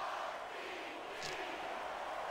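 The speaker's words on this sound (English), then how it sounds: "You can hear the crowd chanting for me." Crowd chanting in the wrestling video game The Great American Bash, a steady broad roar of arena voices held at an even level for a couple of seconds.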